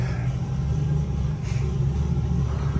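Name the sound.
truck engine rumbling in background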